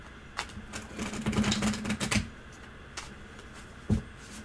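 Scattered clicks and clatter of typing, close and fairly quiet, with a short burst of keystrokes in the middle and a single louder tap near the end.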